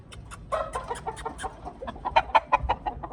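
Several short clucks from a Boston Roundhead gamefowl rooster in a loose, irregular rhythm, close by, with a louder burst of clucking toward the end.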